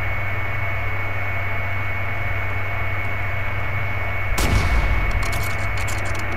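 One loud gunshot cracks out in The Last of Us Part II, a single sharp blast rising over a constant droning background noise.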